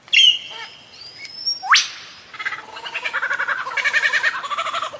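A lyrebird mimicking other birds' calls: a sharp whistle, a rising upward sweep, then rapid repeated chirping and trilling phrases, fairly close and clear.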